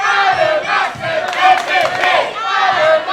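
A wrestling arena crowd during a heavyweight championship match, loud rhythmic chanting and cheering from many voices that swell and fall in repeated waves.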